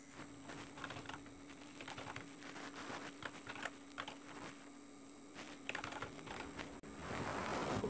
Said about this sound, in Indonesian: Ini kita ketik dulu username-nya.